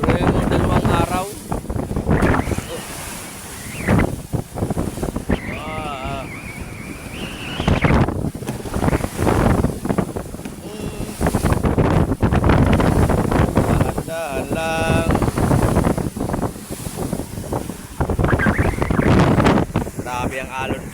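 Fishing boat in rough Pacific waves during the northeast monsoon, loud wind buffeting the microphone over crashing water and engine rumble the whole time, with someone talking intermittently.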